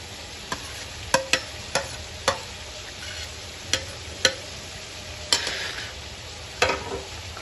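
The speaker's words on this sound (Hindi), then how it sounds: "अब इस मौके के ऊपर टमाटर, हरी मिर्ची, ये ताज़ से और ये जो प्याज ब्राउन की है ये डाल देते हैं।" Tomatoes, green chillies and browned onions dropped into chicken frying for biryani, a steady sizzle punctuated by about a dozen sharp clinks and taps of a spoon against the pot, close, with no talking.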